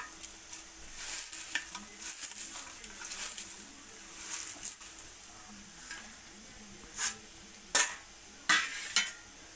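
Neem bark stirred in hot hair oil in a pan, with a soft continuous sizzle and scraping stirs that sharpen into a few louder clinks and scrapes toward the end.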